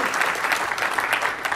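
Audience applause at a Microsoft Build 2018 tech conference keynote, a brief, dense burst of many hands clapping in a large hall.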